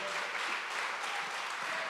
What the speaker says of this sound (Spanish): Hermano, dale el mejor aplauso que tú tienes a tu Dios